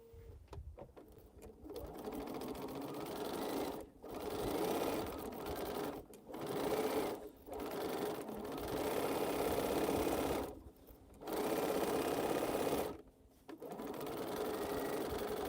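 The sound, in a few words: sewing machine sewing quilt rows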